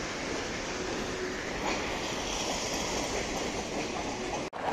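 Freight train hauling timber rolls past nearby, a steady broad rumble with faint rhythmic wheel clatter that carries on continuously and loudly throughout.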